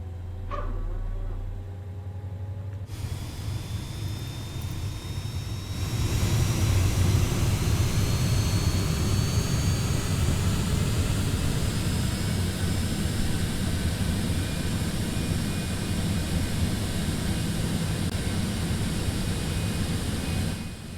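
A Citation X jet engine spools up in a flight simulator, a rising whine over a low rumble that grows into a steady, loud roar with a faint climbing high tone.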